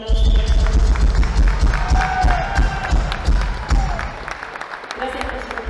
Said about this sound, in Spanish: pido un fortísimo aplauso